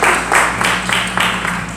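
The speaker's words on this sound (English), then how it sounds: "Let's clap our hands for Ivy Coco Maurice" Church congregation applauding for Ivy Coco Maurice, a steady wash of clapping with a few swelling pulses, moderately loud with no talking over it.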